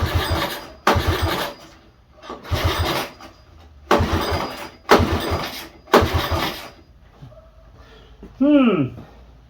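A 1985 Honda TRX125 ATV engine is pull-started repeatedly: six rasping pull-cord strokes in a steady rhythm, each a short loud burst, then a brief whine and a voice.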